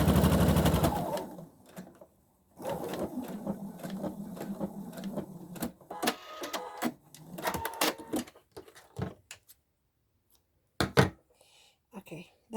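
A sewing machine stitches fabric for hair scrunchies in bursts of mechanical whirring, one long run up front and several shorter stop-start runs after, with gaps of near silence between them.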